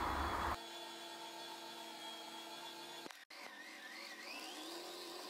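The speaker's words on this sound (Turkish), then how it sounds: "Çırpıcı yardımıyla şöyle macun kıvamına gelene kadar orta derecede yoğuruyorum." A dough kneading machine with a whisk attachment mixes Turkish çiğ köfte into a paste, giving off a quiet, steady motor whine with a brief clunk and dip partway through before it settles back to an even drone.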